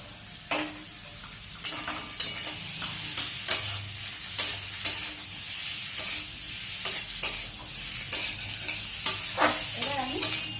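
Previously fried pointed gourd pieces tossed into a hot pan, a continuous sizzle broken by regular scraping stirs of a spatula, close up and without talk.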